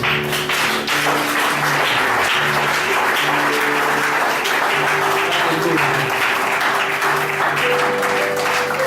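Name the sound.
congregation applauding in church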